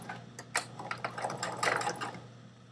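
A home sewing machine topstitching stretch knit with a double needle: a quick series of mechanical clicks and taps builds into a busy, rattling run of stitches over a faint steady hum, close and moderately loud.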